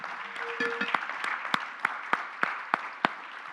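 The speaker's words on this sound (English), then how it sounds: "Please join me in applauding our wonderful panel." An indoor audience applauds a panel after a community talk on colon cancer, a sparse, fairly quiet patter of clapping with a few sharp separate claps standing out near the end.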